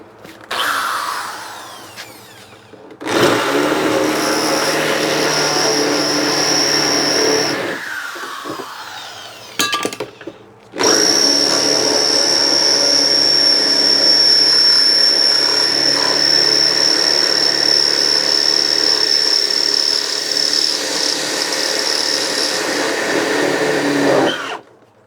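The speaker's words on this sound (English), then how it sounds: "We're gonna use this drill bit to drill out this bolt" A loud power drill whines in sustained bursts drilling out a stuck bolt on a Mercedes Sprinter van sliding door: a short burst first, then a longer run, and finally a long steady grind, with brief pauses between.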